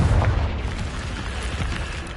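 A Confringo spell explosion in the video game Hogwarts Legacy: a deep, rumbling boom opens loudly, then trails into a fizzing, crackling decay over about two seconds, with no talk.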